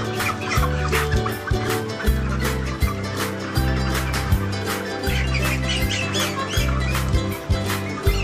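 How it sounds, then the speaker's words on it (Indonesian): Hens squawk and cluck loudly and continuously, close by, as they are caught at random for weighing on a scale, with the agitated calls overlapping throughout. "Setelah itu kita menangkap ayam yang akan ditimbang secara acak."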